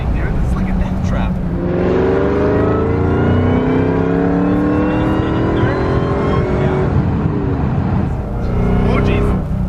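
A 600-horsepower Mustang pulls hard in third gear, its engine note climbing loudly and continuously with rising whine and tire-spinning intensity, heard from inside the cabin as a passenger exclaims over it.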